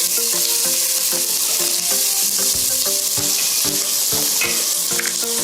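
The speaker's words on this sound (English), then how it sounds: "so we have our pimentos, our onions, our chili pepper. So we're going to saute this." Pimentos, onions and chili pepper sizzle steadily in a hot pan, a close, continuous frying hiss with occasional stirring clinks and scrapes throughout, no voices.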